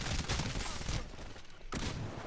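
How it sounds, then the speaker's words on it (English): A rapid-firing gun in the video game Titanfall lets off dense bursts of shots, loud and close, with a short gap before the fire resumes. "with this gun, it fires very quickly, and there is little to no knockback with it at all"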